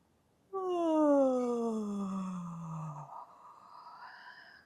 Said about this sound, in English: you're going to make yourself actually yawn, and you're going to have a sigh at the end